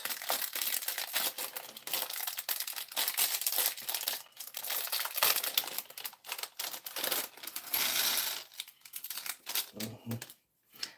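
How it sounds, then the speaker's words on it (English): A Lego set's plastic parts bag crinkles and rustles steadily for several seconds, close up, with sharper crisp snips and crackles as scissors cut it open; brief pause near the end. "Just cutting it open with my scissors to get the parts."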